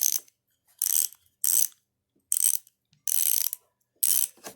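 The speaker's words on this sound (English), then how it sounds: "This is probably a 72 tooth ratchet" A 72-tooth ratchet wrench clicks in six quick bursts of fine, rapid metallic ticks, each separated by short silences, close and crisp with no voices.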